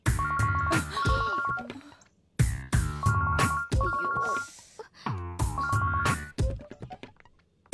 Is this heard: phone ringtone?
yes